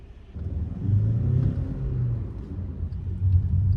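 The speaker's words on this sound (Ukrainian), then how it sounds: "Ось ми зараз виїхали не на саму рівну дорогу, яка взагалі існує." A VW Golf 6 drives over an uneven, imperfect road, heard from inside the cabin as a steady low engine and tyre rumble with faint bumps and thuds from the surface.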